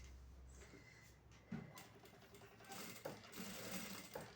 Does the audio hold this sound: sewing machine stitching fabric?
yes